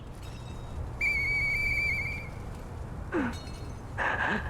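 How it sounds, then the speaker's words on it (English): A whistle blown in the video game Lies of P, sounding as a sustained, clear tone that lasts about a second, followed by shorter sliding whistle notes, over a low ambient rumble. "Okay, let's use our whistle"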